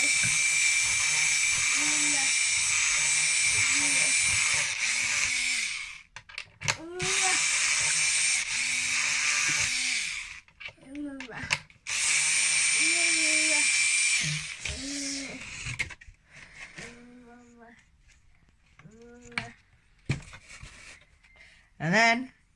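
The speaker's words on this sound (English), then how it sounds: "we're going to drill the hole" Power drill boring a hole for a cheap homemade RC car body clip retainer, whining in steady high-pitched bursts with short pauses between runs, while a person talks over and between them.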